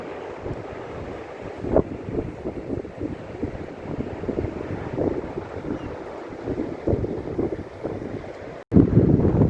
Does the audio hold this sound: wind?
yes